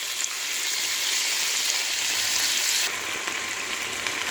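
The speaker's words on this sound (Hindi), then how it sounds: "मटन डाल के इसको 2 मिनट तक भूनेंगे।" Mutton sizzles and fries in a pot with whole spices for aloo gosht, a steady close crackling hiss that briefly eases near the end, with no talk.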